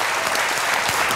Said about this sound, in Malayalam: ആദരവിൻ്റെ ഒരു കൈയടി നമ്മളിവിടെ കൊടുക്കുകയാണ്